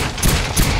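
Gunfire in Resident Evil 4 sounds as two loud, sharp shots about a third of a second apart, close and punchy.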